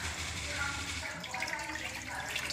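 Water is poured from a glass into a kitchen pot to make sugar syrup for singhade ka halwa, a steady close splashing stream that runs for a few seconds without pause.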